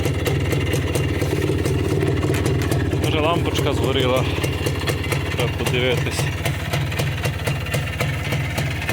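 A 1988 Minsk motorcycle engine idles steadily close by, its low, even putter running throughout while someone speaks over it.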